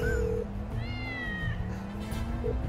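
A cat meows in Grand Theft Auto 5, a single drawn-out mew in the middle of continuous game background sound, with no talk.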